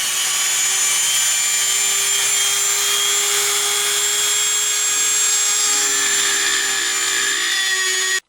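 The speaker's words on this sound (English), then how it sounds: "we can certainly try to grind away the steel a little bit" A small rotary tool with an abrasive point grinds away the steel of a knife, giving a loud, steady high whine with a constant pitch for about eight seconds, then stopping abruptly.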